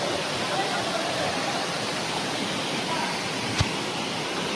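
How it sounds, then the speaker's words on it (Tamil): A waterfall pours with a steady, dense, broadband rush, loud and continuous throughout, with one brief sharp knock near the end. "இதுதான் வாட்டர் ஃபாலு"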